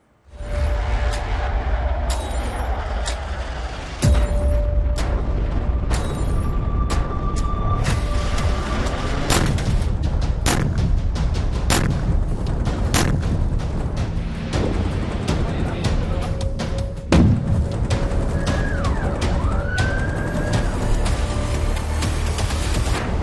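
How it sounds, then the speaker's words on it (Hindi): Russian strikes hit Ukrainian territory, with a few heavy, sharp booms standing out against a continuous roaring rumble, while voices are heard faintly in the background. "यूक्रेन के इलाके में रूस की ओर से ये धमाका"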